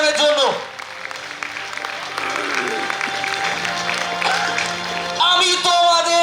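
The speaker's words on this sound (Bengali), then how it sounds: "সকলে একটু জোরে হাততালি দিন প্লিজ" An audience applauds at an education seminar in Baharampur: dense clapping and crowd noise, with someone speaking loudly over it through the whole stretch.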